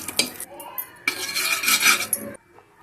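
A spoon stirs turmeric and salt in a pan for popcorn, scraping in quick rough strokes against the metal, close and clear, with short pauses.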